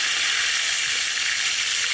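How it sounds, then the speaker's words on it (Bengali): Fish frying in hot oil, a loud, steady, close sizzle that hisses evenly throughout with no talking. "তেল তাইতে গেছে ওই মাছটা দিয়ে দেবো"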